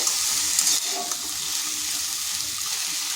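Drumstick greens fry in a pan with a steady, close hiss and sizzle while they are stirred, the crackle continuous throughout with no talking.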